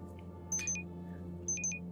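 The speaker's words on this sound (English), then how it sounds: "you'll hear a beeping noise." Electronic beeping in a Call of Cthulhu tabletop role-play scene: two quick pairs of high, clean beeps over a steady low hum, moderately faint.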